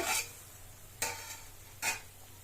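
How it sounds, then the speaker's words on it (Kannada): A village-style vegetable pulav mixture bubbles in a pot, heard as three short, hissing bursts, close and fairly soft, spaced about a second apart over a low background hum. "ಈ ಹಂತಕ್ಕೆ ಚೆನ್ನಾಗಿ ಕುದಿತಾ ಇದೆ"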